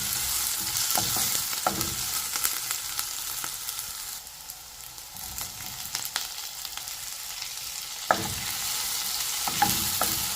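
Tomato and onion sizzle and fry in a pan with ginger-garlic paste while a utensil stirs and scrapes through them at intervals, a steady close crackle with no talking.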